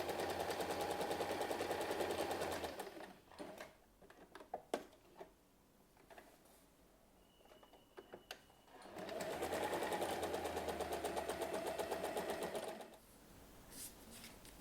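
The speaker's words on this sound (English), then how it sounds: "take the large lining piece and place it wrong side up on top and sew along this side but leave a small opening" A sewing machine stitches a fabric pouch lining in two long steady bursts of rapid even chatter, separated by a quieter stretch of handling clicks and rustles.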